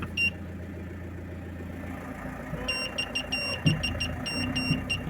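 An Opel Vivaro van idles with its gears engaged after a clutch pedal repair, giving a steady low engine hum. Bursts of high electronic beeping and a few dull clunks sound close by.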